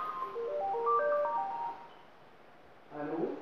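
A telephone ringtone plays a short stepped melody, pauses, then starts again, moderately close and fairly clear.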